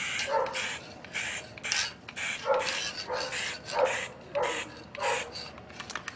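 Neighborhood dogs barking outdoors, a steady run of repeated barks in regular bursts, moderately distant and fairly quiet.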